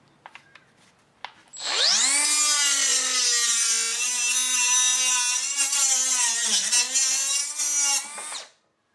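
A Milwaukee M12 Fuel cut-off tool with a wheel rated for drywall, fiber cement and plastic spins up and cuts through PVC. A loud, high-pitched whine holds steady for about six seconds, dips briefly under load, then winds down after a few light taps.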